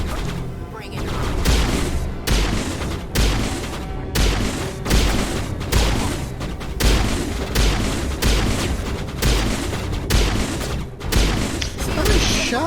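Heavy enemy gunfire and booming impacts in Mass Effect Legendary Edition, a dense run of loud, closely spaced blasts and shots that hardly lets up, with a voice faintly mixed in beneath.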